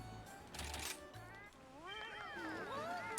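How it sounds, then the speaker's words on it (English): Civet call from Monster Hunter Rise: Sunbreak, a series of wavering, sliding squeals rising and falling over about a second and a half, heard over ambient game sound with chirping birds earlier. "That's the civet."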